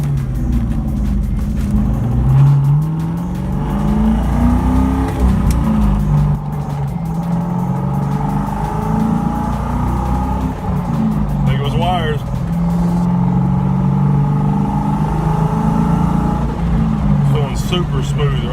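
A 1996 Ford Mustang Cobra engine runs steadily while driving, a continuous low rumble that rises and falls with revs, heard from inside the car with voices talking over it.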